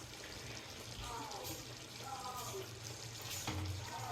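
Rice tipped into a pot of boiling water for homemade biryani, giving a steady, close bubbling and rushing wash with a faint voice murmuring underneath.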